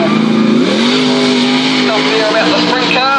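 Sprint cars racing at Central Motor Speedway, with a loud, steady engine drone that climbs in pitch, holds, then wavers near the end, heard under continuous commentary.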